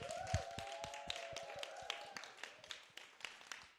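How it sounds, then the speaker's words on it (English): A small live audience at a NoVA Weekend Warriors event gives a round of applause, heard as scattered, fairly faint claps spread steadily over a few seconds, with a faint tonal hum underneath. "So I want to give our audience a round of applause as well."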